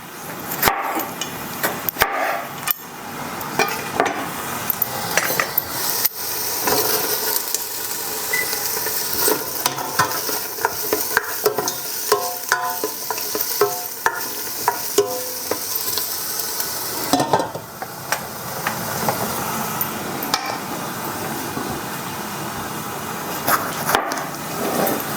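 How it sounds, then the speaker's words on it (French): Onions being stirred as they fry in a pan for a vegetarian red curry, with a steady loud sizzle and repeated scraping, clattering strokes of the spoon throughout. "il faut que je brasse mes oignons"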